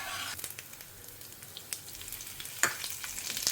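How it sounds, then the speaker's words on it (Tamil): Dal, curry leaves, asafoetida and grated coconut sizzle in hot coconut oil, a steady soft frying hiss broken by a few light stirring scrapes of a spoon in the pan. "பருப்பெல்லாம் நல்லா செவக்க ஆரம்பித்த கையோடு நம்ம கருவேப்பிலையும் பெருங்காயத்தையும் ஆட் பண்ணிவிட்டு தேங்காயுமே போட்டு ஒரு பெரட்டிக்கலாம்"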